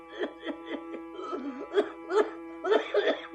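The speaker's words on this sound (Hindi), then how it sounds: "ऐसी खांसी बढ़ती है" A voice produces a run of short, rhythmic coughs, close and fairly loud, with harsher bursts toward the end; it sounds like acted coughing.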